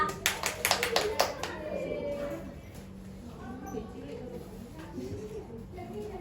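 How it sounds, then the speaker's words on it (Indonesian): Children in a fifth-grade primary school classroom give a burst of quick, ragged hand claps that fade after a couple of seconds, followed by quieter chatter and voices in the room. "beda tepuk tangan untuk Mbak Sadia"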